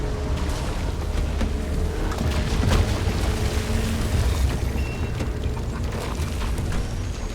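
Explosions in the video game Pacific Drive rumble as low, heavy booms over a dense mechanical drone, one stronger blast swelling near the middle amid scattered pops and rattles.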